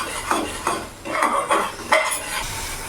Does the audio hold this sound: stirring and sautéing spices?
yes